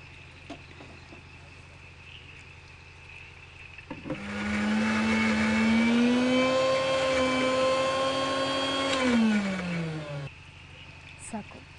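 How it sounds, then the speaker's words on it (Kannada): A kitchen mixer grinder whirs loudly for about six seconds while grinding tamarind with sambar powder, its motor rising and steadying with a strong humming pitch before winding down, with quiet kitchen sounds before and after. "ಇದನ್ನು ಈಗ ಮಿಕ್ಸಿ ಮಾಡಬೇಕು."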